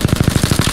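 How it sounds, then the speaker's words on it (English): Rapid automatic gunfire in the video game Apex Legends, about ten evenly spaced loud close shots in under a second with no talking. "Shot fired. And they're hitting me."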